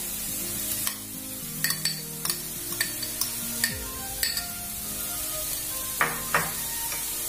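Carrot and cabbage stirred in a hot pan for a vegetable momo filling: a steady soft sizzle broken by a string of sharp spatula scrapes and clicks against the pan, close and clear, with no talking.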